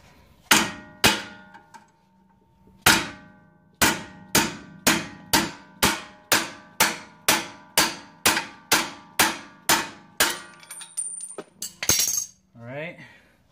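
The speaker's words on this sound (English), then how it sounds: "You just gotta keep hammering it until it comes completely off." A hammer strikes a stuck brake caliper slide pin over and over, sharp ringing metal clangs in a steady rhythm, a couple of early blows then a long regular series, followed by scraping and rattling.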